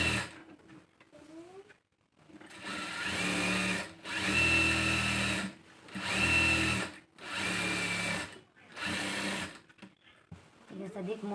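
A sewing machine stitching a straight fitting line along a blouse side seam, running in five distinct bursts of about a second each with short pauses between, close and loud, with a little talk before.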